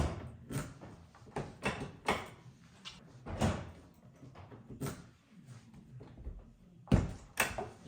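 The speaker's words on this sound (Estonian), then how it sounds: "Ja uks käib nii kinni kui lahti." A Volvo 740 car door is opened and slammed shut several times in succession after a door lock replacement, giving solid latching thuds and clicks close to the microphone.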